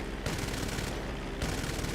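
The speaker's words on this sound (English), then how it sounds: "these machine guns sound a little different" Rapid machine-gun fire from the Mammoth Streamer 216 propeller plane in GTA Online, two sustained bursts of dense, rattling shots separated by a short pause, loud and close over a steady engine drone.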